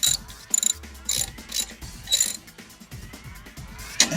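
A hand wrench ratchets while a light kit is installed, giving a string of quick, close, light mechanical clicks in short irregular bursts, with no speech.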